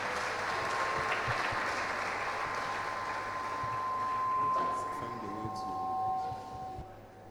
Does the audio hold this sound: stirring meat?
no